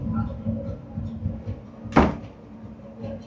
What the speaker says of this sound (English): Whoa, the draft slammed the door.